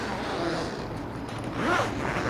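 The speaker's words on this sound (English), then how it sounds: "what is this last zipper? So this is a 35-liter backpack" Expansion zipper on a 35-liter Pakt One travel backpack being pulled open, a close, loud ripping zip that runs in a couple of strokes, heaviest near the end, with no talk.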